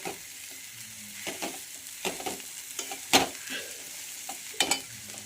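Mashed potatoes are sautéed in ghee in a pan while being stirred, with a low constant sizzle under irregular scraping and tapping of the spoon, close and with no talking.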